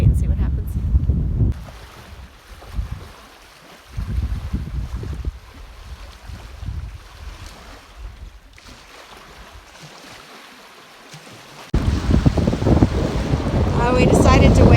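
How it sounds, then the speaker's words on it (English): Strong wind gusts over a lake in cold, rainy weather, buffeting the microphone in heavy rumbling bursts that ease to quieter stretches before surging loud again near the end. "The wind has picked up again, and it's once again pelting rain."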